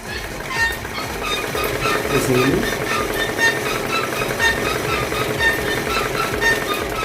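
Sewing machine stitching quilting lines into a quilted bag, a steady continuous mechanical rattle running the whole time at moderate loudness.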